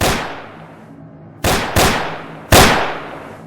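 Archival recording of gunfire during the Bloody Sunday shooting in Derry: a single loud, sharp crack is followed after a pause by three more close, echoing shots, each decaying into reverberation.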